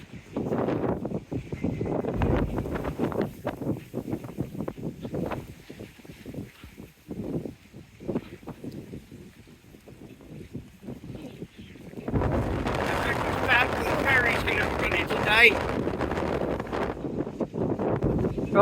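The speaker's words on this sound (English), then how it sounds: "it's certainly blowy today." Strong gusts buffet the microphone at the back of a ship, rumbling and roaring in uneven bursts that swell louder toward the end, with occasional thumps.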